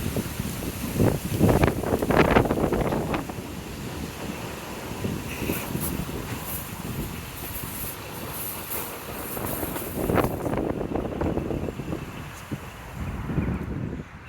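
Wind gusts buffet the microphone on a narrowboat cruising the canal from Llangollen toward Chirk, a steady rough rumble with louder surges near the start and again around ten seconds, with no voices.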